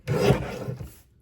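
A paper trimmer blade slicing through a strip of cardstock for a scrapbook page kit: a single short, close scraping rasp lasting about a second, then silence.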